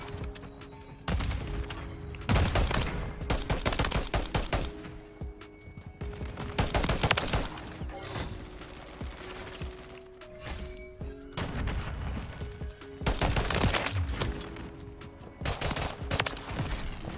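Sustained gunfire from a DM56 marksman rifle in Modern Warfare 3, with repeated loud shots in bursts separated by short pauses, plus other weapons cracking around it throughout the match.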